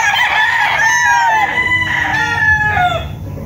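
A gamecock rooster crows loudly and close by in one long, wavering cock-a-doodle-doo that trails off near the end, with faint background noise underneath.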